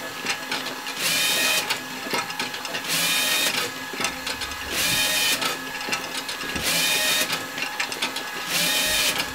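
A LAB500 labelling machine automatically applying stickers to golden ziplock pouches runs with a steady mechanical whir, broken every two to three seconds by louder buzzing bursts in a regular repeating cycle.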